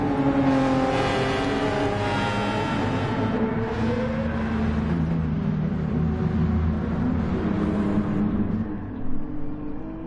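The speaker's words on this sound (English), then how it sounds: "here we have the drivers getting off on the formation lap" Race cars in a racing video game on the Monza circuit pull away on the formation lap: a loud, continuous engine drone with rising revs and layered motors rumbling together, steady throughout and sounding close to the listener.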